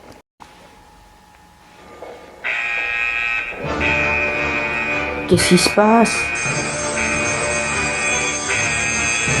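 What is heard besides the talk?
fire alarm on a spaceship in Lego Doctor Who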